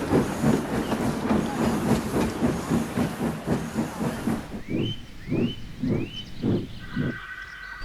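A steam locomotive puffs away with evenly spaced, hissing chuffs over rolling wheel noise, a loud close rhythm that eases into crisper, more separated exhaust beats near the end.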